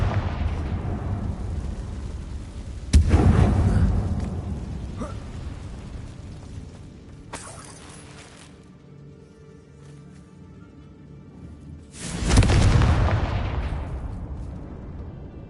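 Confringo blasting spells explode in Hogwarts Legacy: two loud, booming blasts several seconds apart. Each one rumbles and fades slowly, and a quieter crackling burst falls between them.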